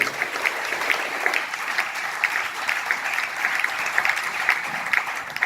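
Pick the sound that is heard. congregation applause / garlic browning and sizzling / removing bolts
congregation applause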